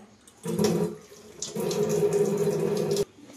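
Tap water runs into a kitchen sink for washing, a steady rushing stream that starts, breaks off briefly, then flows again for a couple of seconds before cutting off abruptly.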